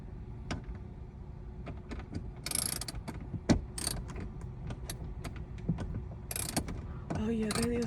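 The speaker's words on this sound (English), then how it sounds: "Oh yeah, that is how a wrench works." A ratchet wrench clicks while a sun visor is fitted in a Nissan Pathfinder, sounding in short irregular runs of close, crisp clicks with a few brief scraping bursts between them.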